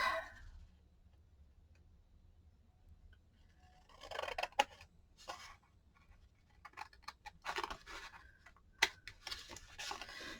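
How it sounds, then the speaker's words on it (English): A paper cutter slices through book pages with several crisp snipping and clicking cuts, coming in bursts in the second half after a quiet start, close and fairly faint. "now let's go ahead and cut these off real quick"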